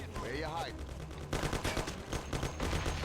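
Bursts of rapid gunfire crackle from the video game Mafia 1, with a voice chattering over the shots.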